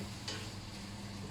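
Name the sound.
shrimp cooking in a pan for paella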